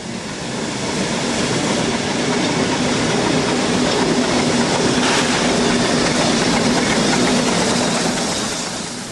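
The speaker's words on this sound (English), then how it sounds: "This is locomotive number 2, named the Tuolumne, a 2-truck Heisler built in 1899" Heisler steam locomotive No. 2 Tuolumne, a two-truck engine built in 1899, rumbles loudly and steadily nearby at Roaring Camp, a dense continuous chuffing and rolling noise with no voices.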